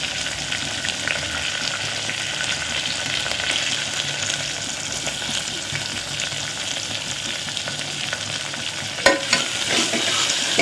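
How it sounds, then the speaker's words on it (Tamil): Onions and green chillies sauté in a pan for roadside-style sambar, giving a steady, dense sizzle and crackle with a brief sharper scrape of stirring near the end, with no voices. "வெங்காயம் வந்து நல்லா வதங்கட்டும்"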